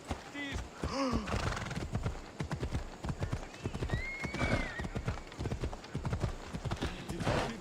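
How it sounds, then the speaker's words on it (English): A horse gallops and whinnies in Assassin's Creed Odyssey, rapid rhythmic hoofbeats running throughout with a couple of neighs, while voices talk over the riding. "I'll get back Megacles' stallion"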